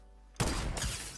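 A short, loud burst of gunfire breaks out from behind the player in a Fortnite duo match, a rapid volley that lasts about a second. No one speaks.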